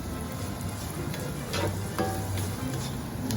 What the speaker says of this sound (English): now what we're going to do is just cook these onions and peppers down a little bit till they're nice and soft